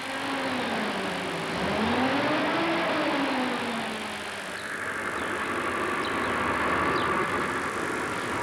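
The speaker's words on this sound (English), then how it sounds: "a clean air bus, powered by a B-range engine developed to run on liquid propane or natural gas" Rolls-Royce B-range engine bus built to run on liquid propane or natural gas, a steady close engine drone with a rising and falling tonal whine, no speech over it.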